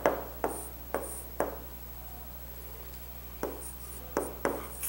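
A pen writes an answer on paper in a quiet room: a few soft, brief scratchy strokes in small bursts, separated by near-silent gaps.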